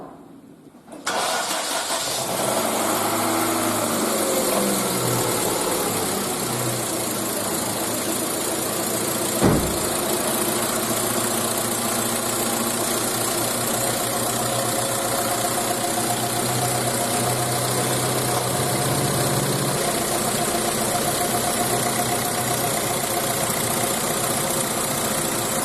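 A car engine starts and settles into a steady idle after its AC compressor bearing was replaced, a loud even hum close up that runs unbroken for over twenty seconds.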